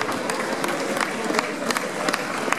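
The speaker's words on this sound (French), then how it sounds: "on va les applaudir" A crowd at a podium ceremony applauds regional winners, a sustained patter of many hands clapping at moderate distance, with a little voice noise mixed in.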